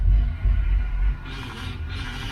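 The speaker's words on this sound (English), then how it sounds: "The power steering pump is a little loud" A mechanical whine and creaking hum from a Fox-body Ford Mustang's running engine bay, from a loud power steering pump, louder at first then easing, with faint higher hissing toward the end.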